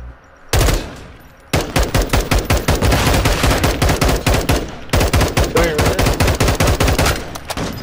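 Automatic gunfire in Call of Duty Modern Warfare 2 during a bomb-site round, one heavy blast followed by long rapid bursts of close, loud shots with a brief break midway.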